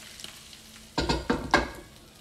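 Hot oil sizzles and crackles in a few sharp bursts as a tempering with green chillies is poured in, the spitting loud and close after a quiet start.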